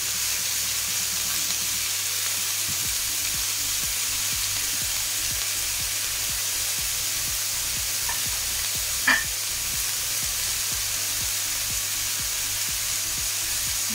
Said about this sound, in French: Je rajoute mes champignons. Et je continue à dorer.